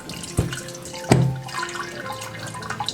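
Water released from squeezed date pulp while making date honey (tahlaout) splashes and trickles into a vessel, with two sharp splashy hits near the start followed by a steady, fairly close running-water sound.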